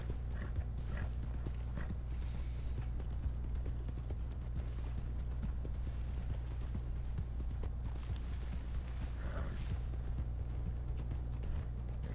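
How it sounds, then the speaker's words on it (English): A horse gallops in the Western game Red Dead Online, its hoofbeats a fast, steady clip-clop running throughout over a low engine-like hum, fairly faint, with a few brief higher cries and no talking. "Shooting flying bird from a galloping horse is not the best idea."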